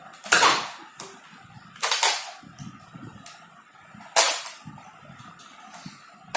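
A toy Nerf gun fires foam darts in three sharp, loud bursts spaced about two seconds apart, with quieter clicks and handling noise between shots.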